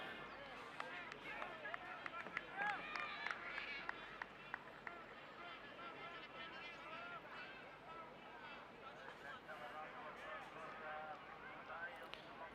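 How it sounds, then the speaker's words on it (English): Cricket crowd at a one-day international between Hong Kong and Papua New Guinea, a steady broad murmur with scattered horn blasts and loudspeaker sound in the distance, punctuated by a few sharp claps early on. "We can hear the horns and the loudspeakers over from the southeastern side."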